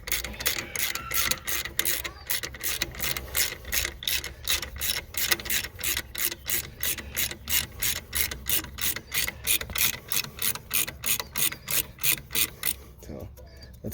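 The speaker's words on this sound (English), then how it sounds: "Get my 1/2 inch on here, and now we're gonna go ahead and tighten this up to get these belts super tight." A half-inch ratchet tightens an alternator belt bolt on a 2000 Subaru Legacy, clicking in a long, even train of sharp pawl ticks at close range for about thirteen seconds before it stops.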